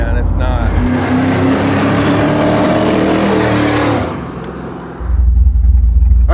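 V8-swapped Jeep Wrangler with 4.11 gearing, engine revving loudly nearby with a rising, rumbling roar that eases off before another deep throaty burst, with people talking over it.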